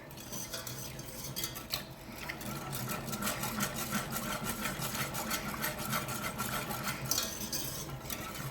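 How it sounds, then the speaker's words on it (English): A whisk beats a sauce of milk or cream in a pan, producing a fast, continuous rhythmic clatter against the metal, fairly faint and close, with no voices. "So I'm going to whisk this all together."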